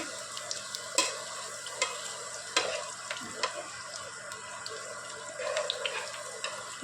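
Bitter gourd pieces frying in oil for pickle while being tossed with two spoons, a constant sizzle broken by repeated clinking scrapes and stirring knocks, close and steady.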